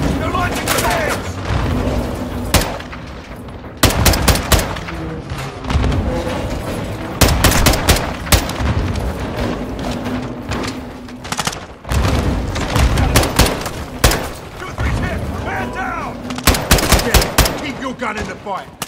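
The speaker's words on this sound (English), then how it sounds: "Incoming! Take cover! They're launching grenades!" In Call of Duty Modern Warfare 2, loud bursts of automatic gunfire and heavy grenade booms crack out in dense, uneven volleys, with shouting voices heard between and under the shots.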